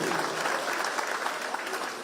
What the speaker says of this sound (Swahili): tupigie makofi